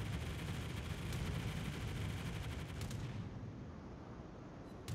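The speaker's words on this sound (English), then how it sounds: "Anti-aircraft gun crews are on full alert." Anti-aircraft gunfire in a naval warship video game, a steady dense wash of distant rattling fire and booms that runs throughout at a fairly low level, easing slightly toward the end.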